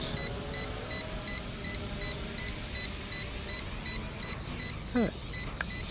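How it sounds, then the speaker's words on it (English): A high electronic alarm beep from the radio control transmitter of a JJRC H55 Tracker GPS drone repeats in a steady rhythm, about two pulses per second, over faint background hum and a brief rustle. "we can hear the alarm on the radio control transmitter"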